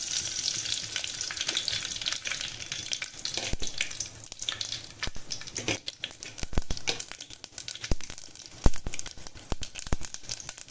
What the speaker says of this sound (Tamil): கடுகு உளுந்தம் போட்டுக்கலாம்.